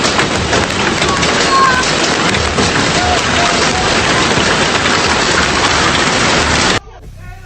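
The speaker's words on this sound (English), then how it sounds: "Look at this powerful hailstorm pounding Munich, creating a terrifying scene." Hail pounds down in a heavy, constant roar over Munich, loud and unbroken, with faint rumbles beneath, then it cuts off abruptly near the end.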